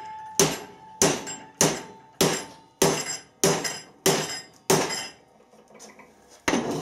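A hammer strikes a MIG-welded crankshaft part in a workshop weld test: eight loud, evenly spaced ringing metallic blows, each decaying quickly, then a short pause and one more hit, close up.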